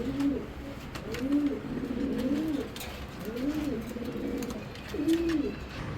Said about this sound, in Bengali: এই দেখেন খুব সুন্দর স্টাইফেন ডঙ্কার লাইনের কবুতর মাদি